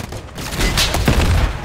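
Sustained gunfire in the Call of Duty Modern Warfare 3 campaign, a loud dense burst of overlapping shots and booms filling the whole moment.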